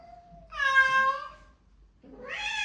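A cat meows twice, close and fairly loud: a long wavering call, a short pause, then a second rising meow, with no other sound around it.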